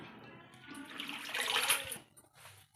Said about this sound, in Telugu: ఫస్ట్ గోంగూర అంతా కడుక్కోవాలి